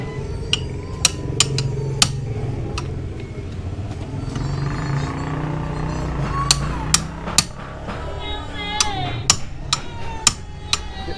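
Scattered sharp hammer strikes ring out irregularly over a steady engine rumble and background noise, some in quick clusters, while opening the CVT of a Honda Beat scooter.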